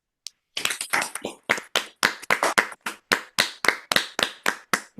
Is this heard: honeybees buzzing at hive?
no